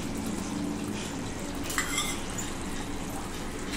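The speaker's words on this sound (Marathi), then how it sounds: "व्यवस्थित त्याला हलवून घ्या." Dhaba-style chole masala stirred in a pan, a steady soft scraping and bubbling texture throughout with a brief clink near the middle, no talking.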